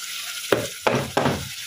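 Onion going into hot oil for a katla fish curry, three sharp bursts of sizzling as pieces hit the pan and get stirred, near and loud after a quiet start.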